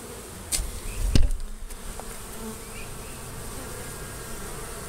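Bees buzz faintly and steadily around a hive from the Hurricane Katrina era as its boxes are taken off, with a couple of brief knocks near the start over a low outdoor hum.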